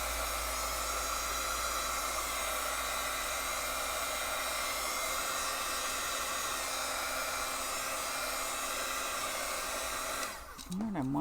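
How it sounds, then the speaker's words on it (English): A handheld hair dryer blows steadily for about ten seconds, drying a mixed media artwork; loud, constant whooshing hiss that cuts off abruptly near the end. "Let me get the dryer out because it's just a little bit more than even I can handle"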